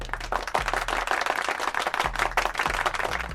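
Hand clapping in applause fills the whole stretch, dense and continuous at close range, with no talk over it.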